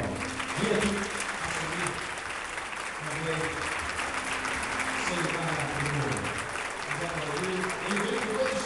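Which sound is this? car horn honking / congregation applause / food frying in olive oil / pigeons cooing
congregation applause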